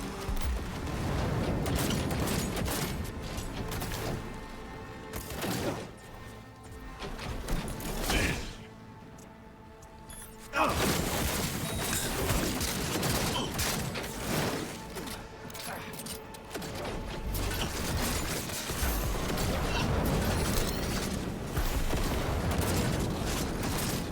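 Pistol gunfire in Cyberpunk 2077 during a combat fight, dense bursts of shots and mechanical clatter running almost continuously, loud and close, with a brief lull midway and someone talking over parts of it.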